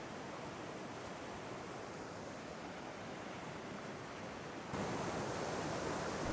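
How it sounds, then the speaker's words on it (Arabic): A freshwater stream flows quietly through a rocky mountain valley, making a steady, even rush of water with no pauses, a little louder over the final seconds. "فما هو إلا ماء عذب يمضي بهدوء"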